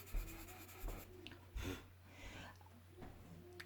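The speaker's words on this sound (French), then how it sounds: "on entend bien le fait que la mine est sèche, on entend bien gratter le papier" Dry, scratchy strokes of a dry pastel pencil drag across paper in short, uneven passes, quiet and close up with faint background hiss.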